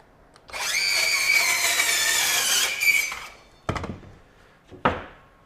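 A Masterforce 20V brushless 4-1/2-inch ultra-compact circular saw cuts a 45-degree bevel, with a loud, steady high-pitched whine that runs for a few seconds, then two short bursts of noise as it spins down.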